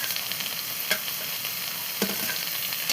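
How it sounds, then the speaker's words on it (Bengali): Prawns cook in a mustard gravy in a pan, a steady hissing sizzle with two or three light scrapes of a spoon, close and alone. "সর্ষে তো কষাতে হয় না এটার একটা আলাদাই ঝাঁজ থাকে তো এটা কষানোর কোনো দরকার নেই চিংড়ি মাছটা অ্যাড করে দিলাম"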